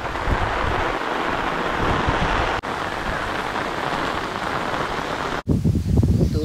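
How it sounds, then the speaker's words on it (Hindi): Strong wind blows with the onset of rain as a loud, steady rushing hiss. Two brief dropouts break it, and it ends in heavier low buffeting against the microphone. No voices are heard. "आज लगता है इसको बरस ही लेना है, इतनी तेज हो रही है हवा के साथ।"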